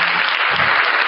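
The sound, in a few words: applause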